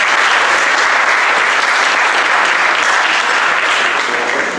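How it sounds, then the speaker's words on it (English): Loud, sustained applause from a conference audience for panelists at the opening plenary of an open-government event, a dense even roar of many hands clapping with no gaps. "Let's give a round of applause to our panelists"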